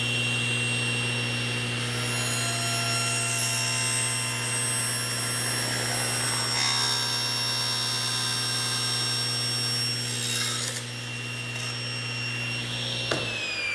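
Saw cutting through wood to make custom shims: a close, steady motor whine with strong harmonic tones shifts slightly in pitch as it works, then winds down at the end, with no voices.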